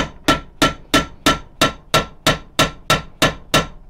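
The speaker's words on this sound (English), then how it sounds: "So I'll hammer this down now" A metal spoon is hammered flat to make an arrow broadhead: eleven sharp, evenly spaced ringing blows, loud and close, with no talk.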